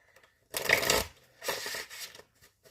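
Tarot cards being shuffled by hand, two short bursts of riffling and sliding, close and fairly loud, separated by a brief pause.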